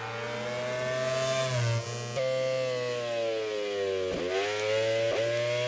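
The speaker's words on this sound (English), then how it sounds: "Sound of that Aprilia. It's a really good sound, isn't it?" Aprilia MotoGP bike in MotoGP 18 howling at high revs, a loud sustained engine whine with harmonic tones that drop sharply at gear changes, shifting several times as the bike runs a lap.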